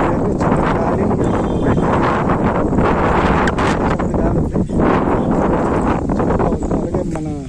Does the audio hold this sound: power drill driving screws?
no